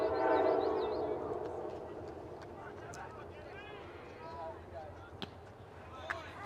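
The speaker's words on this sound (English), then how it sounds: "Wouldn't be a Panther game without some locomotive action in the background." A train rumbles past in the background of a high school baseball semifinal, its steady low noise fading slowly while an announcer calls the game over it.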